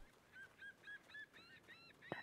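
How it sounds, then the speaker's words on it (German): A chicken in the Star Stable video game clucks softly near a barn, giving about seven faint, evenly spaced calls in a steady rhythm, with no talking. "Ich höre ein leises Gackern."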